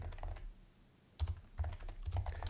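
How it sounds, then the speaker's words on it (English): Computer keyboard typing in ASMR style, bursts of close, crisp key clicks with a short pause in the middle, rapid and fairly steady, alone without talk. "Let me throw some ASMR at you typing, just to spice things up a little bit."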